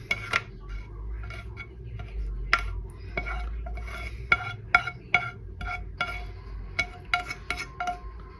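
Sautéed onions being stirred into meat in a pan, with repeated close scraping and clinking of a utensil against metal over a low background hum, irregular taps throughout and no talk.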